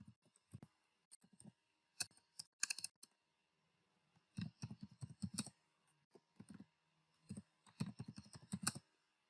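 Bursts of quick keystrokes on a computer keyboard while code is entered for an ASP.NET Core project, clustered in uneven runs with short pauses between them, close and fairly quiet with no talking.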